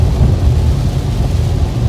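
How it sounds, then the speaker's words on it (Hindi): Heavy rain pours steadily on a car stuck in a Mumbai traffic jam during a road trip, wipers at full speed, a loud continuous low rumbling wash with no talk. "बहुत तेज़ बारिश आ रही है"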